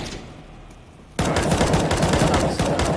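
Rapid automatic fire from an MP9 submachine gun in a shooter game erupts loud and close after a quieter lead-in, a sustained stuttering burst that runs on for nearly two seconds.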